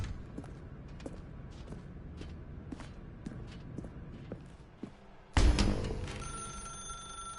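Soft footsteps tap along for several seconds, then a loud telephone in the game The Stanley Parable suddenly starts ringing close by, its bright, sustained ring lasting to the end.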